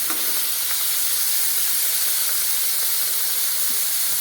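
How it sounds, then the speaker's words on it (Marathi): Paneer fries in oil in a kadhai, producing a steady, close, hissing sizzle that stays even throughout with only faint knocks underneath and no talking. "तर पनीर छानपैकी तेलामध्ये भाजून घ्यायचं आहे"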